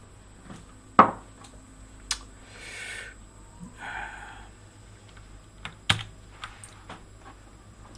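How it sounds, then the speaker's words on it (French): Keystrokes on a computer keyboard and numeric keypad, a few sparse, sharp clicks with softer rustling in between, close and fairly quiet against a steady low hum. "j'ai tapé super plus 5 sur mon clavier, sur mon pavé numérique"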